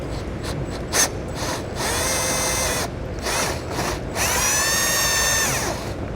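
A ratchet with a 10mm socket and extension backing out a bumper fascia bolt on a 2021 Chevrolet Colorado, rapid clicking bursts coming and going close by, no talk.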